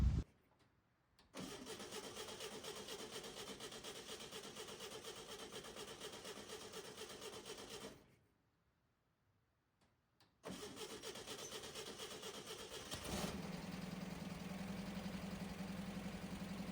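A 1966 VW Bus engine, fitted with a new gas tank, cranks and fires, runs steadily, cuts out into silence for a couple of seconds, then restarts and idles with a low rumble. Nearby and loud, with no voices.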